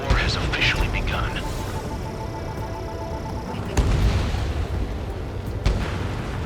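Anti-aircraft fire and explosions in a video game battle, heavy booms and sharp blasts punching through a dense roar, with a voice talking over the din.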